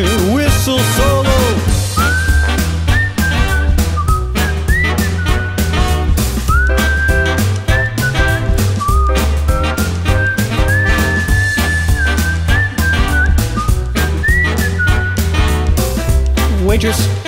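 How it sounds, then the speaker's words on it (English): A melody whistled over loud backing music with drums and bass in a quickstep version of a song, sustained notes gliding between pitches throughout. "Whistle solo."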